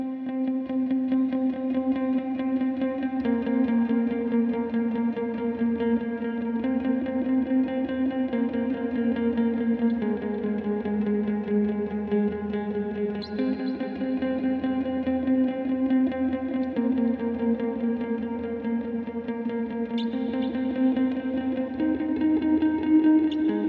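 Clean electric guitar run through a Helix with delay and a washy reverb, playing a sustained, ringing melodic line of steady sixteenth-note picking, close and full with repeats smearing into a continuous wash and no voices.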